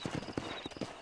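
Horse hooves clip-clop in a steady, rapid rhythm in Red Dead Redemption, several riders' horses moving together at close range with no talk over them.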